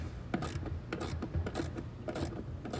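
A ratcheting socket wrench, likely 13 mm, loosens the mounting bolts on an air conditioner compressor, giving quick bursts of close metallic clicking in an uneven rhythm with short pauses between strokes.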